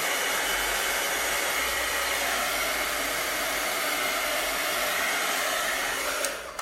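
Hair dryer blowing on a chalk craft project, a loud, continuous, even roar of rushing air that holds steady throughout and dips only briefly near the end.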